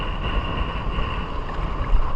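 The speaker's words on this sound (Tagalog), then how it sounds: "Lakas na, mahangin na." Strong wind at sea roars against the microphone during a fishing trip among big waves, a steady low buffeting rush with a faint whine above it, no talking.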